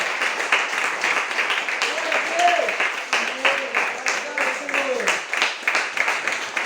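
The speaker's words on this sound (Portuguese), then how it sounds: "Você pode aplaudir bem forte" Steady applause from a church congregation, dense clapping sustained throughout, with a few voices calling out over it.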